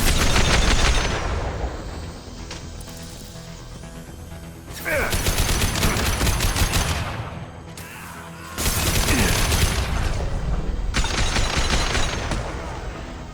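Bursts of rapid gunfire from a Mass Effect 2 firefight during Zaeed's loyalty mission, loud volleys at the start and in two sustained stretches later, with sharp impacts and crashes and quieter gaps between.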